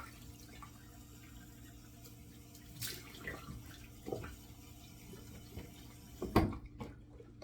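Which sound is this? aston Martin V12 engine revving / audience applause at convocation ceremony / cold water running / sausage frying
cold water running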